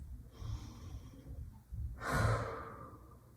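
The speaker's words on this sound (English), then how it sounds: "And take another big breath." Slow, deep breaths during a yoga session, a long soft inhale swelling into a louder, fuller exhale, heard close and alone with no talking.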